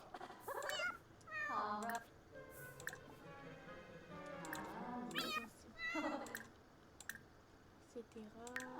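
A cat meows repeatedly at close range in short, rising calls spread across the stretch, with people chatting quietly in the background.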